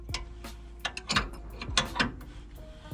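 A drag pack valve mechanism on a car being screwed down until tight, heard as a run of close, crisp ratcheting clicks and metallic clacks in uneven bursts, with no talking.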